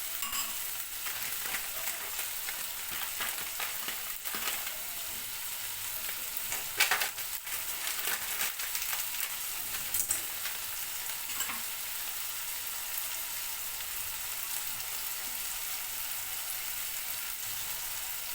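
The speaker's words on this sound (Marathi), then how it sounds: "आता थोडा वेळ हे भाजू द्या, सर्व मिश्रण भाजू द्या" A tomato-based fish curry masala mixture for katla fish fries in a pan with a steady, fairly quiet sizzle, broken now and then by stirring scrapes.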